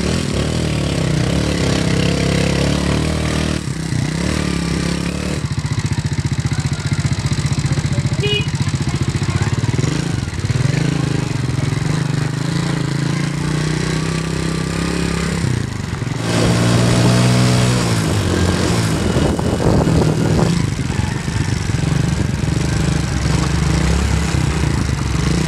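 Motorcycles ridden through rain in Cambodia, a steady mid-pitched engine drone running throughout with shifts in throttle and a brief rise around the middle, close and continuous over road and rain wash.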